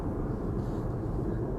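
A United Boeing 767-300 departing Amsterdam Schiphol, a brief, steady low jet rumble heard from a distance with no other sounds.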